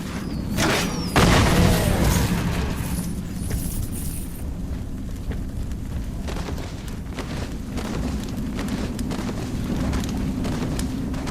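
A bomb explodes in the video game Sacred 3, a loud booming blast that swells early and then decays into a long rumbling tail beneath continuous game ambience.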